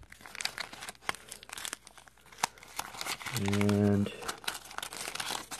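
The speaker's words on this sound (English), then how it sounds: "As you can see, tape's coming right off." Tape peels away from a breadboard with a crinkling, tearing rip that swells for about a second, close to the mic, between bursts of someone talking.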